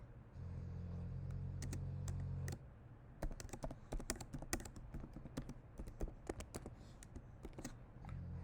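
Fingers type on a computer keyboard in quick irregular bursts of close, crisp key clicks, entering a password during an online authority application, with a low hum underneath for the first few seconds.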